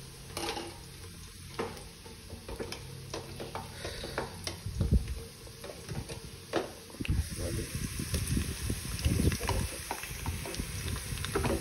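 Ginger garlic paste sizzles and crackles in hot oil while it is stirred for biriyani, a steady close frying hiss with scraping stirs that grows louder toward the end, under occasional talk.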